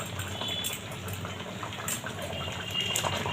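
Water poured into a cooking pan holding drumstick flowers, a steady gushing fill running throughout at close range with no talk.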